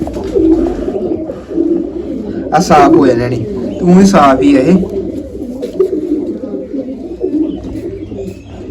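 Pigeons coo nearby in low, soft repeated calls with a couple of wing flutters, while someone talks over them.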